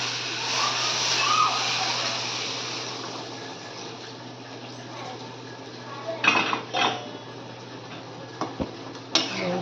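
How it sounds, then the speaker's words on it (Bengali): Hot water goes into a pot of braised meat cooking on a stove, a hissing, bubbling sizzle at first, fading to a quieter simmer, followed by several close clinks and knocks of a utensil against the pot. "এবার আমি জল দিয়ে দেবো। গরম জল বসিয়েছি এখানে, গরম জলটা দিয়ে দেবো।"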